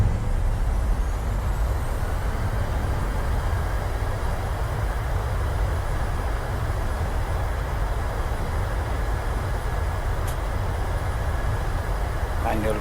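Reverse thrust roars from a PMDG 737-700 landing in MSFS2020, a constant loud broadband jet rumble with a faint high whine throughout and a brief click near the end.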